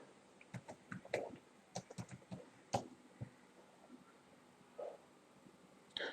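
Fingers type a search query on a computer keyboard: soft, irregular bursts of clicky keystrokes with short pauses, quiet and close.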